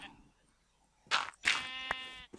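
A sheep in the video game Minecraft bleats, two short nasal cries close and clear over faint background sound, with a brief break between them.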